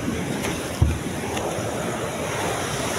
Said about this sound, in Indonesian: ombaknya besar sekali ya